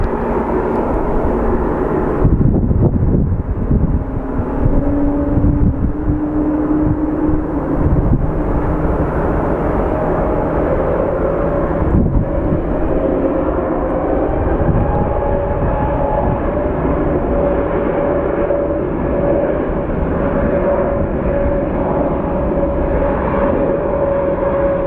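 A jet airplane takes off at Phoenix Sky Harbor International Airport, its engine roar loud and continuous from start to finish, with rising and shifting tonal whines layered over a dense low rumble.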